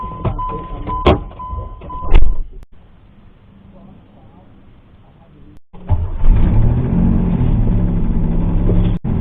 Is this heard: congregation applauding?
no